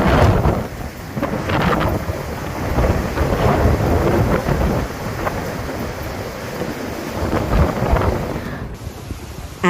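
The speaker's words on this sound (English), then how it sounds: "the storm dumped more than 16 inches of rain, leading to a flash flood emergency" Heavy rain and roaring wind from Hurricane Milton in St. Petersburg form a loud, dense, continuous wash with gusty surges throughout, and no voices are heard.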